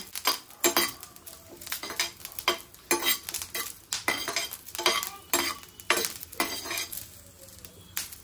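Fish (pomfret) roasting in a pan on a gas stove, heard as repeated scraping and stirring strokes with light metallic clinks over a faint sizzle, close by.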